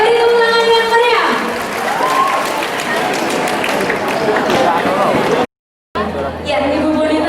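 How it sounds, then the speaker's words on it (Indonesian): A crowd at a campus pageant grand final applauds and cheers with lively clapping and shouting amid a general din and some music, broken by a brief moment of silence before the noise returns. "Oke, beri tepuk tangan yang meriah."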